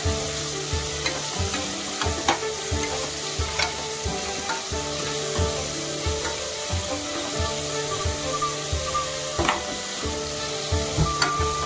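Tomatoes and chopped onion with curry leaves fry steadily in a pan for a dry fish curry, giving a continuous close sizzle broken by repeated scrapes and knocks of a stirring spoon, with no voices.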